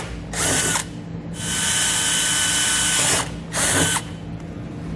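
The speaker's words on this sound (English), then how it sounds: "I'm just going to drill" A power drill whirs through plastic in three bursts: a short one, a longer steady run, then another brief burst, close and loud with a low hum underneath.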